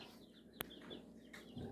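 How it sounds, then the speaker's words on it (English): A baby chick kept under a ring light chirps faintly, with a few short high peeps spread over a quiet indoor background and a small click partway through. "We had to put our ring light back over our baby chicken. Which is what you hear chirping."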